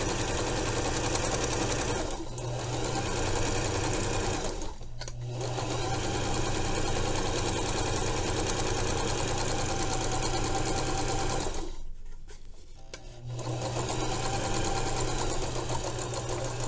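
A sewing machine runs steadily along the long pressed edges of fabric jabots, a close, even mechanical whir that stops briefly twice and then resumes.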